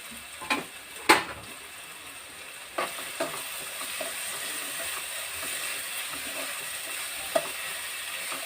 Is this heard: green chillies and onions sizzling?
yes